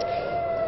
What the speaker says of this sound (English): The siren just went off.